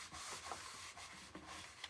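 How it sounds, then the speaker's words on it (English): A paper towel rubs back paint on a framed angel, giving soft, faint scratchy strokes in a quick repeating rhythm, close up with no talk. "I'm going to take a paper towel and just start rubbing back"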